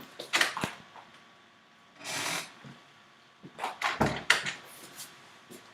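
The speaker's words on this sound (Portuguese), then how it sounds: "Deixa eu só abrir a porta aqui para o cachorro." Door being opened to let a dog out: a handful of close wooden knocks, a latch click and a creaking swing, in separate bursts with short quiet gaps between.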